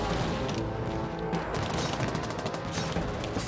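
Machine gun fire in a Falklands War battle at Goose Green in 1982: dense, continuous crackling volleys of rapid shots with booming impacts, loud and chaotic throughout, with no voices.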